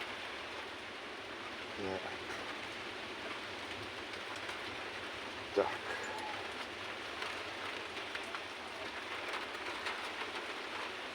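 Light rain mixed with a little hail falls outdoors as a steady, soft hiss with scattered tapping, continuing throughout, with a brief spoken word and a sharp knock near the middle.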